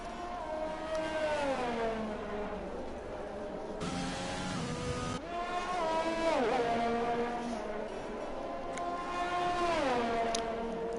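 Race cars in a racing video game at the Brazil round of a sim-racing series, several engines revving and shifting up and down through the gears, loud and continuous, with one car's note sweeping past.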